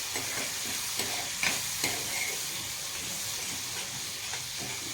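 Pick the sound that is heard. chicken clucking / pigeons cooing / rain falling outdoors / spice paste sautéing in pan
spice paste sautéing in pan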